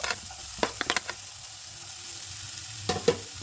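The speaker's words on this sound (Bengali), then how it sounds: "এবার পেঁয়াজ কুচি আর ক্যাপসিকাম কুচিগুলো দিয়ে দিলাম।" Chopped onion and capsicum fry in a pan with a low, continuous sizzle and a few sharp clicks and scrapes from stirring, close and quiet.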